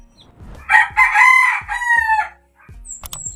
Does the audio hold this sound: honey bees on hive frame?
no